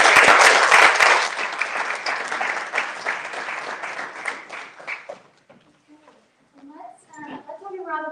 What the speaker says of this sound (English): Why don't we go ahead and give a round of applause for all of us.